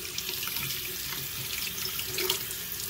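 A buried find from under a tree is rinsed under a running kitchen tap at home: a steady, close hiss and splash of water that continues unbroken, with no talking.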